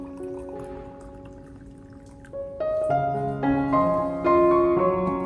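Boiling water pours into a cup, the tone climbing steadily in pitch as the vessel fills, gurgling bright and close.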